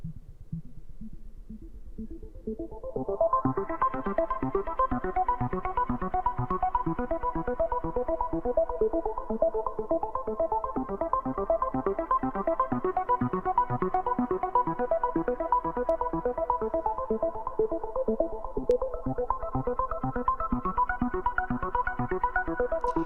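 A synth arpeggio pulses in a rapid, steady pattern while the Sweeper filter plugin by Denise Audio slowly sweeps its brightness up and down; no voices.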